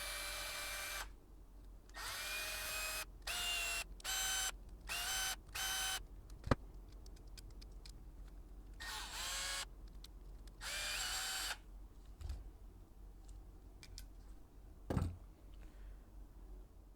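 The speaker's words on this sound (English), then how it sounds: "I'm just going to take the 2mm driver and I'm going to remove all those" A small electric driver with a 2mm bit spins in short whirring bursts as it removes screws from a brass portal housing on a TRX4 RC truck. The bursts are close and separated by pauses, with a few light clicks and taps.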